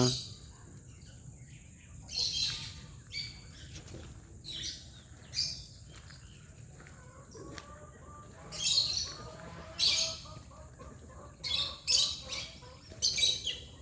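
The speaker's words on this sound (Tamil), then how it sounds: "இது எங்களோட லவ் பேர்ட்ஸ் குழந்தை வந்தால் கொஞ்ச நேரம் விளையாடிட்டு இருப்பானுங்க" Pet lovebirds kept in a garden give bursts of high chirps and tweets at irregular intervals, close and moderately loud over a low background rumble.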